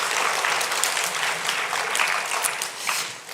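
A church congregation claps in encouragement, a lively, dense round of applause throughout the short moment.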